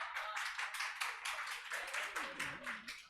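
Students in a lecture classroom clap together in a steady, rhythmic unison beat, several seconds of quick even claps with some voices mixed in.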